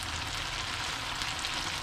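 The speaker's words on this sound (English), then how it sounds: "the fish is now sizzling away" Fish frying in a pan gives off a steady, dense sizzle with no pauses, close and even in level throughout.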